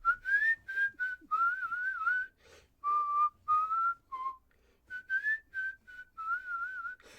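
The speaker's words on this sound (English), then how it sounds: "And the whistle comes in" Whistled melody in a funk-jazz song, bright phrases rising and trilling in short bursts with brief gaps between them, loud and up front with no voices.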